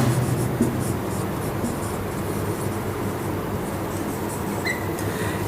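Chalk or marker writing on a board during a Hindi-language chemistry lecture, a steady scratchy rubbing that runs continuously under faint room noise with no talk.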